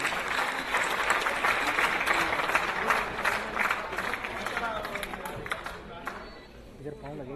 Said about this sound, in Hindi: जनाब काशिफ हुसैन गायर का आपकी भरपूर तालियों में इस्तकबाल है।